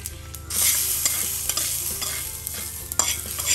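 A spoon stirs dal into a pan of fried garlic and cumin. Scraping strokes come one after another over a steady, close sizzle of hot oil, with no talking.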